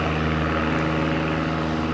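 Sammy Mason's aerobatic propeller airplane droning steadily and loud through a flat spin at an airshow, a continuous engine tone with no gaps.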